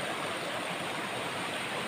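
River current flowing steadily, a continuous broadband rush of moving water heard close and alone, with no other sounds over it.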